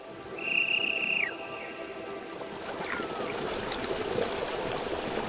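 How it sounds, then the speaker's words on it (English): Rushing water from a waterfall in a Pokemon video game, a steady broad wash of flowing sound throughout, with a brief high whistling tone near the start. "The secret behind the waterfall."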